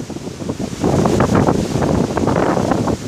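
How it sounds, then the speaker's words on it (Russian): Strong wind buffets the microphone in heavy, continuous gusts, a loud roaring rush with no voices, on a road in China. "ужасный сильный ветер."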